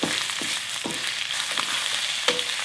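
Sundae stir-fried with onion, green onion and green chili pepper in a pan, a constant sizzle punctuated by regular scraping stirs about every half second.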